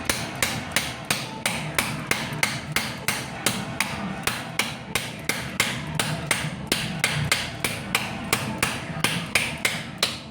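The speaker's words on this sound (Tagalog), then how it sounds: "Ini martilyo." Steady, rhythmic hammer blows ring out sharply, one after another at an even pace, loud and close with no talking.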